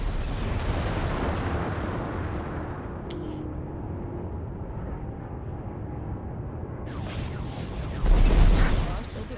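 Missiles launching and exploding in the space combat video game Strike Suit Zero. A steady roaring rumble of rocket fire and blasts swells into a loud, deep boom near the end.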